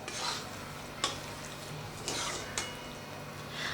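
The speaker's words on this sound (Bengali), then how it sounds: "পেঁয়াজ আর ক্যাপসিকামটাকে দিয়ে একটু মশলার সাথে মিশিয়ে নেব" Fried onion and capsicum stirred with spices in a pan, soft steady sizzling broken by a few sharp scraping strokes of a spoon, fairly quiet with no talking.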